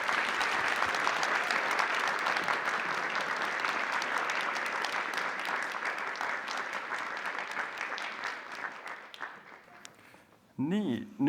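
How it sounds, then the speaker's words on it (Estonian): An audience at a fashion show claps in sustained applause that stays loud, then thins out and fades over about ten seconds before a voice begins over a microphone. "suur-suur aplaus, aitäh teile"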